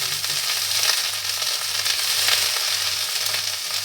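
Kharkol leaves hit a pan of garlic and black cumin already frying in oil, setting off a loud, steady sizzle and crackle that stays close and continuous for the whole stretch, with a faint low hum underneath.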